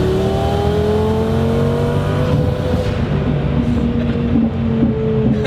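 Twin-turbo Lamborghini Gallardo with a 1200 hp V10 accelerating hard, a loud close-up engine drone whose harmonics rise steadily as the revs climb, continuous and without talk.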